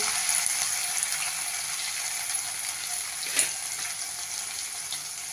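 Crushed garlic frying in a pan of oil while making a sautéed amaranth greens dish, giving a steady, close sizzle throughout with one brief louder crackle near the end.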